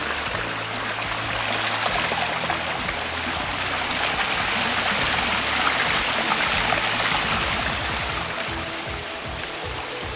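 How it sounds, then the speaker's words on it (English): A small stream running through a series of little waterfalls on rural Maine land, giving a steady, close, full rush of splashing and trickling water that holds even throughout, with no voices. "This one is the no-name one that has a series of waterfalls."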